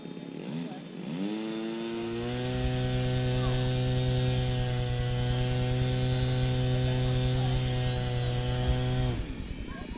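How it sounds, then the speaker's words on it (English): A Skynetic XCub 1500mm RC plane taxis with its electric motor running. A steady, buzzing whine rises quickly to a constant pitch, holds loud and close for about eight seconds, then cuts off. "Taxiing off."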